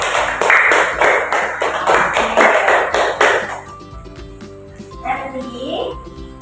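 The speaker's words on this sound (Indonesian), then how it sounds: "Tepuk tangan dong." A classroom of students claps their hands in a quick, even burst for about three seconds, then the applause stops and a teacher's voice continues speaking over a quiet room.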